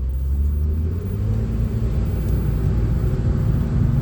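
A 2005 Ford Freestyle pulling away from a stop, heard from inside as a steady low engine rumble and drone that holds evenly throughout.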